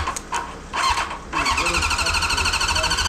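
An abandoned motorcycle engine that sat unused for ten years, hooked up to a van and started: a few short cranking bursts, then the engine catches and runs loud and steady, close up, before cutting off abruptly.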